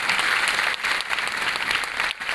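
Steady, dense applause from a large audience at an orientation session in Kota, a continuous wash of clapping that holds strong with only brief dips.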